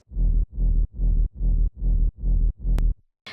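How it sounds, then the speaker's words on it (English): A deep bass rumble pulses in seven even, evenly spaced bursts, loud and alone, then cuts off with a brief hissy click at the end. "I added a rumble for the low frequencies"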